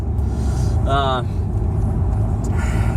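A car drives home along slushy, snow-covered roads on a snowy evening, with steady low road rumble and tire noise throughout and a brief tonal whine partway through.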